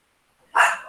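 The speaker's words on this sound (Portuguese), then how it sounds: "pelo latido parece um shih tzu" A single short, sharp yap from a small Shih Tzu dog, close and moderately loud, after near silence during an online class.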